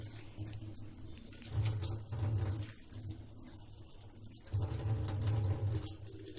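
Running tap water splashing over a Prestige electric kettle as it is washed in a sink, a soft continuous flow that swells and dips as the kettle moves under the stream, with no talking.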